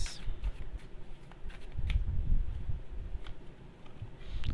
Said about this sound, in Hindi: I'll take some more cards.